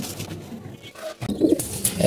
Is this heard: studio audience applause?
no